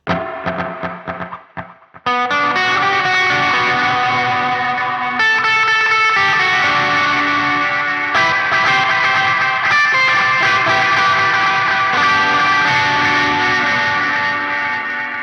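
Guitar drenched in shimmering reverb pitched up a fifth, the wash ringing with a higher pitched layer above the notes, sustained chords blooming continuously after a brief plucked opening.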